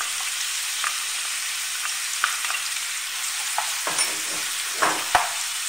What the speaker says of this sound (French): sur le feu dans une poêle anti-adhésive. Je rajoute les crevettes nettoyées, les crevettes roses.